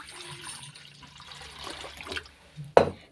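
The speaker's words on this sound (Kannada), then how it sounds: "ಇವಾಗ ಇದಕ್ಕೆ ನೀರು ಹಾಕ್ಕೊತಾ ಇದ್ದೀನಿ." Water trickles and splashes softly into a bowl of semolina for rava dosa, a faint uneven pour ending in a brief louder splash.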